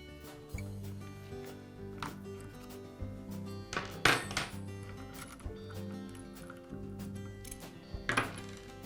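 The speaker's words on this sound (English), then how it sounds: "I'll place a wrench on the nut to remove the screw." A wrench turning a nut and screw at the rear of a Bostitch nailer's magazine, producing scattered metallic clicks and clinks with a couple of sharper knocks over a faint steady hum.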